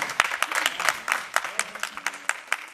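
An audience claps in a brief, uneven burst, sharp individual claps standing out within a modest crowd, close and lively for under three seconds.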